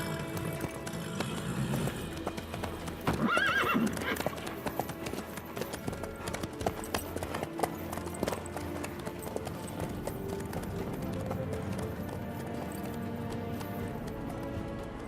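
Horse hooves clip-clop at a steady trot in Witcher 3, close and fairly loud, running under music and game ambience.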